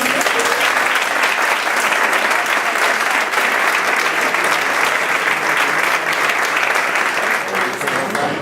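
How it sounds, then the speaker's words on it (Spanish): An audience at an interactive flamenco event in Algeciras gives a loud, sustained round of applause, dense clapping that stays strong and even from start to finish. "vamos a dar un aplauso"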